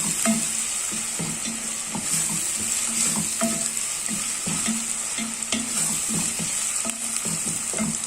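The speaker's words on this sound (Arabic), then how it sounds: "هنسيب بقى البصلايه على النار كده شويه وهنرجع لكم تاني" Onion frying on the stove in a pan gives a steady, quiet sizzle with small pops and crackles throughout. No other sounds come through.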